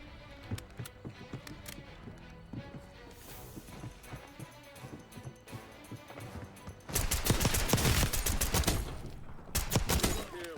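Pistol gunfire in Call of Duty: Warzone, a run of quieter sharp shots giving way to a dense, louder burst of rapid firing near the end, with no talking.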